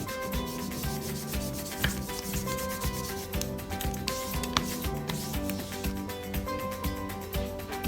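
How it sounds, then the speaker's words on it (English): A marker rubbed back and forth over a styrofoam printmaking plate, a steady close scratchy rubbing with rapid strokes throughout. "you can grab one of your markers and use that to rub your styrofoam"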